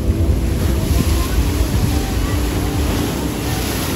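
Ocean waves wash steadily onto Anjuna or Morjim beach in Goa, a continuous broad roar of surf with wind buffeting the microphone and no clear individual breaks.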